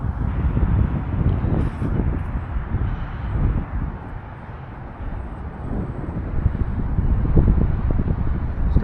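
Gusty crosswind buffeting an outdoor microphone at an RC flying field, a loud low rumbling roar that swells and eases in waves, with a brief faint high whine from the small UMX Conscendo model plane.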